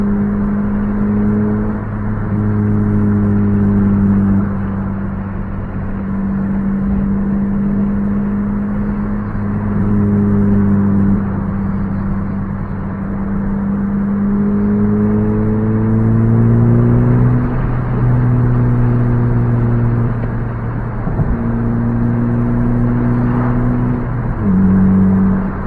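A 9th-gen Honda Civic Si with a K-Series engine and new aftermarket exhaust drones loudly from inside the cabin, revs rising and falling through repeated gear changes over a steady road hum, no talking.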